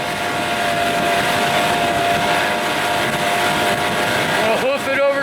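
A 1989 Evinrude 25 hp outboard motor runs steadily on a windy lake, its droning hum holding even for several seconds before shifting pitch near the end.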